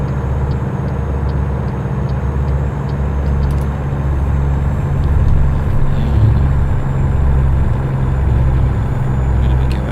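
A steady low drone from a truck engine in American Truck Simulator, driving near San Francisco, fills the whole stretch with a constant loud rumble and slight swells, without speech.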